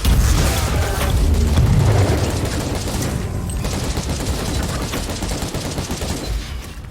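Mortar explosions boom in Warhammer 40,000: Inquisitor - Martyr, loud and close, followed by a dense rumbling barrage of blasts and gunfire that slowly fades.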